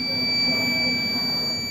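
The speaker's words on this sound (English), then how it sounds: "Should be beeping any minute." An inverter circuit with a transformer beeps, a steady electronic buzzing tone with high-pitched whine lines holding evenly throughout, fairly loud and alone without speech.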